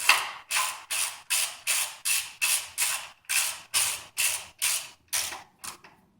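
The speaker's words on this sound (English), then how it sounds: "You grab your 10mm socket and your 3/8 drive ratchet." A 3/8-inch drive ratchet turning a 10mm socket on a small aluminum coil pack bolt of a Mitsubishi Lancer GTS, heard as a close, regular series of about a dozen sharp clicking pulls with brief pauses between them.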